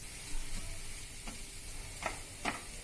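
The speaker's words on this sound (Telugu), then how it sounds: "వీటన్నింటినీ మసాలాలతో కలిపి బాగా ఫ్రై చేసుకోవాలి." Mashed boiled potato, roughly smashed by hand, stirred and fried with spices in a pan for aloo patties, giving a soft steady sizzle with a few light scraping strokes of the spoon, close by and fairly quiet.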